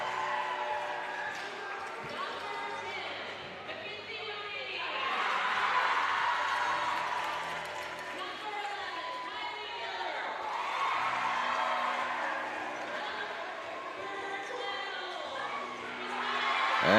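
A loud crowd cheers and roars at a high school volleyball match, South Medford at North Medford, with swelling waves of noise that rise and ease under a commentator's voice.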